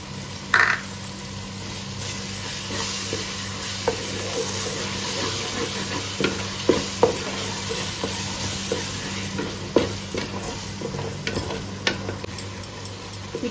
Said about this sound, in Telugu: ఈ గ్రీన్ పీస్, టమాటో అన్ని ఇప్పుడు బాగా ఫ్రై అయింది.